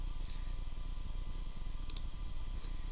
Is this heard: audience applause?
no